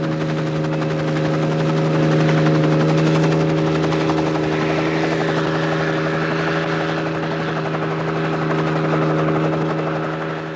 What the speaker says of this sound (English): The helicopter will come out from Derry to lift them above the hedgerows